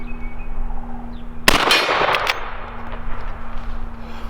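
A single loud shot from a Henry Model X .357 Magnum carbine followed by a bright metallic clang off a steel silhouette target, ringing briefly over a steady outdoor hum.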